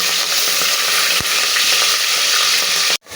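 Onions and green chillies fry in a pan with a loud, close, hissing sizzle and bursts of stirring clatter. The sound cuts off sharply just before the end, then briefly returns.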